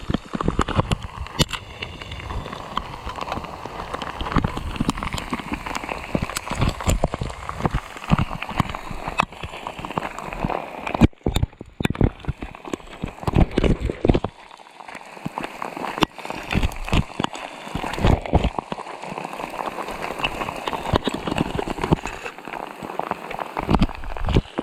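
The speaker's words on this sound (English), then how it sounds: "a little bit of hail." Hail pattering on a hiker's jacket and the gravel of a forest road under storm clouds, a dense crackling patter that carries on throughout, with brief gaps and heavier bursts.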